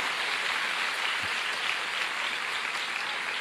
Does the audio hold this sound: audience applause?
yes